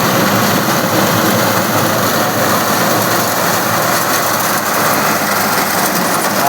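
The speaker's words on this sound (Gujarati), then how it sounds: "કટર ચાલુ થઈ ગયું આપણું" Loud, steady mechanical roar of a fodder cutter driven by a 50 hp tractor, cutting sorghum, running continuously with a constant broadband hum and no pauses.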